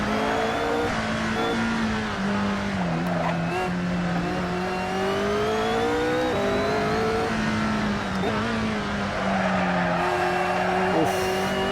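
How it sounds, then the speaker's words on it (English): Supercar engine revving hard on the Nürburgring, a McLaren Senna, Bugatti Divo or Ferrari SF90 Strada: a loud, continuous high-revving engine note rising and falling through gears, with wind and road noise inside the cabin. "That massive wing back there, it can't cope with how fast the engine revs."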